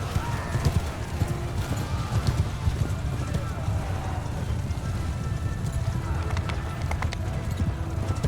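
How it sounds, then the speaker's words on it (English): Rapid hoofbeats of a galloping horse in Mount & Blade II: Bannerlord, steady and fairly loud, with a neigh and voices talking over the noise of battle. "let me get out of the way of the horse."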